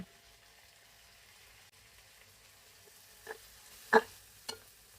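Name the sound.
tomato and green chili frying in oil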